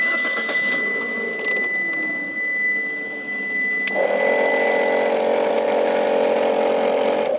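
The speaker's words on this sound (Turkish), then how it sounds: "Arabayı çalıştıralım." A car engine cranks and catches, then runs at a steady idle with a dense, even mechanical drone, close and loud with no talking.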